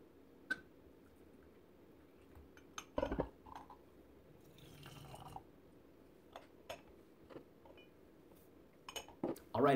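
A porcelain gaiwan is handled while yellow tea is prepared, with sparse light clinks and taps of ceramic and a brief rustle, close and quiet over a low room hush.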